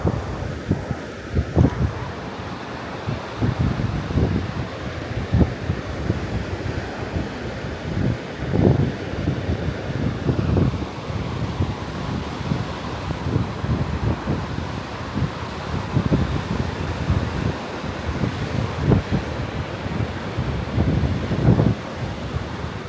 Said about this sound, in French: les vagues s'intensifient derrière